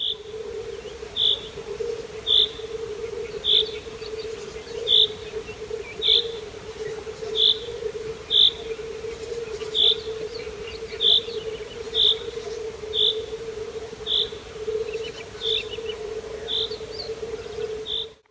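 Evening swamp ambience: a steady droning hum of insects or frogs, with regular high chirps repeating about once a second throughout.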